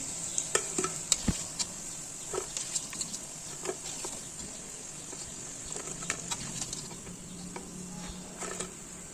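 Chinese pakoras bubbling in hot oil with a steady high hiss, broken by scattered crackles and clicks of utensils as the golden fried pieces are lifted out onto a plate; no one talks.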